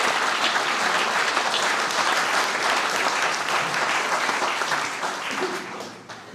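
A congregation at a Sunday gathering breaks into dense, sustained group applause that holds steady and then tapers off near the end, with no talking over it.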